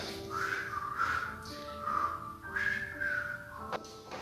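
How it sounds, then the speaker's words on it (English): A whistled melody of sustained, clear tones that glide up and down in pitch, carried steadily from start to finish at moderate loudness, with no talking. "You can't whistle and laugh at the same time."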